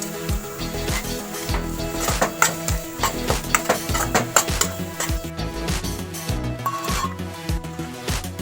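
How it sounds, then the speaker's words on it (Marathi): Ginger garlic paste is stirred through hot oil in a frying pan, giving a steady sizzle with repeated scraping and knocking of a spoon against the pan. "आले लसूण पेस्ट घालता."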